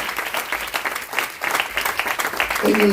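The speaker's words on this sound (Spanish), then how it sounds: "¿Cuánto le regalan un aplauso al Dios Todopoderoso de esta hora?" A church congregation applauds steadily during a service with dense, continuous clapping, with a few voices mixed in beneath the noise.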